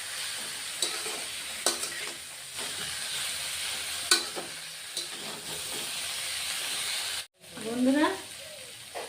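Dheki shak (fiddlehead fern greens) fry with spices in a pan, giving a steady close sizzle and hiss broken by the scrape and knock of stirring. The sizzle cuts out briefly, then a voice speaks over the renewed frying.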